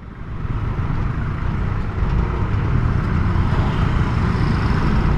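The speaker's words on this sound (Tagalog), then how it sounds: "Tulad dito, grabe ng traffic." Heavy road traffic idles and creeps at a stoplight in Tayuman, with a steady low engine rumble and a broad, continuous roar heard from inside or near a vehicle.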